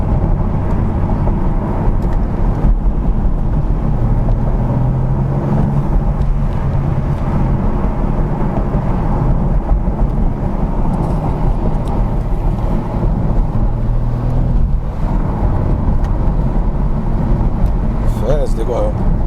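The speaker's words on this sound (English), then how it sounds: "Really test the car here on these roads" A BMW M4 Competition G82 drives on a road, with a steady low engine drone and road roar filling the cabin throughout while the driver talks over it.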